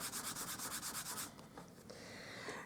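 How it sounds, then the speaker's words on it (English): An embossing buddy is rubbed briskly over black cardstock, making a close, rhythmic swishing of about ten quick strokes, then a softer, steadier rub fading out. "I'm just going to run my embossing buddy over the top."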